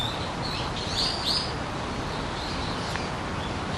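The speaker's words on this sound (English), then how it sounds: "you hear the birds singing" Birds singing in a Japanese garden, a few bright chirps and short trills near the start over a steady outdoor hiss, then quieter.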